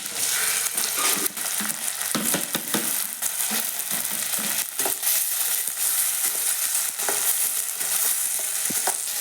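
Curry leaves, chopped onion and tomato sizzle steadily in a hot pan, with a continuous bright crackle broken by scattered clicks and scrapes of stirring; close, fairly loud and free of voices.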